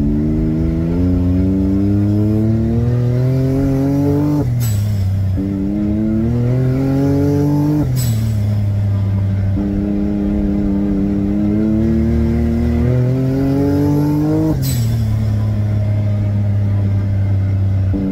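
A Can-Am X3 side-by-side engine fitted with an RPM blow off valve revs hard under load in gear, pitch climbing through repeated pulls, each ending with a sharp release hiss before the next climb, loud and close.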